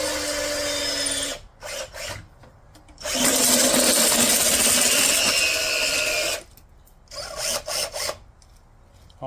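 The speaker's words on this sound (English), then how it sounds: "Got a drill with a drill bit." A power drill fitted with a drill bit whirs in close bursts, starting and stopping several times, with one long sustained run in the middle and short choppy spurts toward the end.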